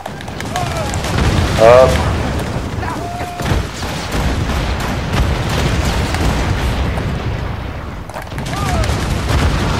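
A gunshot fired at a ship's sail in Assassin's Creed Rogue, a sharp blast near two seconds amid a busy naval battle with booming cannon fire, while someone speaks French over it.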